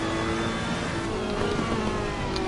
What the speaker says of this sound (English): Faster car behind you.